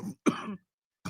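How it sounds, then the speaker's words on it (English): A short, close throat-clearing cough in two quick bursts, followed by the start of another sound after a brief pause. "I always cough"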